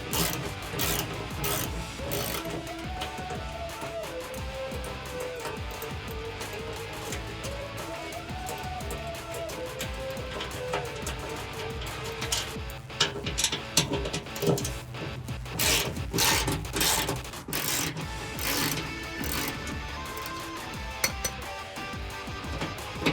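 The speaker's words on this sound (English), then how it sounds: "this is with a 10mm socket and 3/8" drive ratchet" A 3/8-inch drive ratchet with a 10mm socket refastens an exhaust hanger to the frame of a 2017-2020 Ford F150 5.0L, with continuous rapid clicking pawl strokes, close and steady, with some rubbing and metal scraping.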